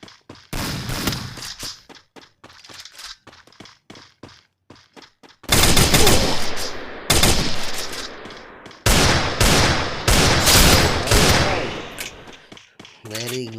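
Automatic weapon fire in the mobile battle game Free Fire, heard in a Clash Squad match: sharp repeated bursts and rapid volleys that grow louder and denser partway through, with gaps of scattered single shots.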